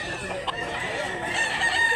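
A rooster crows amid a noisy chicken sale in Mantalungon, Barili, Cebu, its call rising over a dense backdrop of other fowl clucking and crowing, with faint talk from the crowd mixed in.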